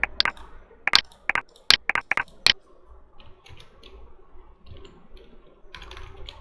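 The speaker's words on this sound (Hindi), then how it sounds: "चलिए, यहाँ पे हम लोग टाइप कर देते हैं" Quick bursts of crisp clicks from a computer keyboard being typed on, a dozen or so sharp keystrokes in the first half, then a quiet pause with faint room noise.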